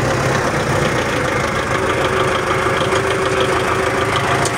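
A new tractor built by the Cherepovets Foundry and Mechanical Plant idles steadily nearby, a continuous mid-to-low engine drone with a faint knocking texture and no voices.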